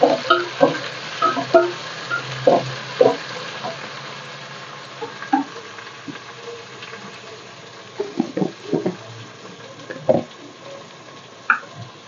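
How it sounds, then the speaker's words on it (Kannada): Onions fry in a pan while a spoon stirs them in a home kitchen, steady low sizzle under repeated scraping and clinking strokes, close and moderately loud throughout. "ಈರುಳ್ಳಿ ಚೆನ್ನಾಗಿ ಫ್ರೈ ಆಗೈತೆ ಇವಾಗ ಟೊಮೊಟೊ ಹಾಕೊಳ್ಳೋಣ"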